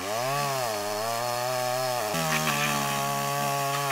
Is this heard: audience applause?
no